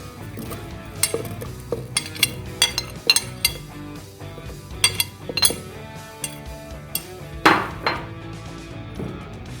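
Several irregular thuds and knocks as apple and banana pieces drop into a hard blender jug, with clinking between them and no talking.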